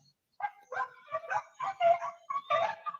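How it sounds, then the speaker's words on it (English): Dogs fighting outdoors yelp, whine and bark in quick, strained bursts, sounding somewhat distant and moderately loud, one high-pitched cry following another without pause. "Apparently one dog had a hold of another."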